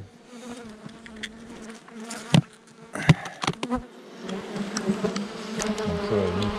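Honeybees buzz around a beehive feeder, a dense, steady drone close by, with several louder bees passing near and briefly swelling above the hum.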